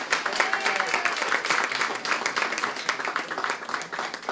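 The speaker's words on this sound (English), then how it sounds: "Give him a round of applause." Audience at a sheriff's department kickoff event claps for an honored officer, a brisk, fairly steady patter of many hands with a few voices and a brief whistle-like cry mixed in.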